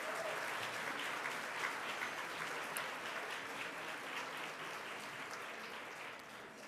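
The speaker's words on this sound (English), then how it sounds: "I'd like all of you to give a round of applause to these very attentive, wonderful servers" Luncheon audience applauding the servers at an annual Boston Public Schools valedictorian event, a steady wash of many hands clapping heard from within the room, holding even and fading slightly toward the end.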